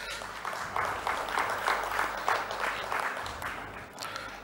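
Audience applause at a press meet for the TV show Meelo Evaru Koteeswarudu, moderately loud clapping from a crowd with a broad, continuous texture that thins slightly toward the end.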